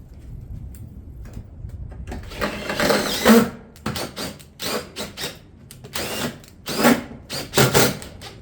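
Shake ridge cap shingles are fastened along a hip ridge on a roof, a series of short loud mechanical bursts close by, several fired in quick succession and separated by brief gaps.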